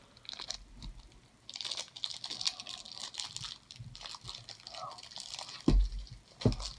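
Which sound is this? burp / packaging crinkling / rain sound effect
packaging crinkling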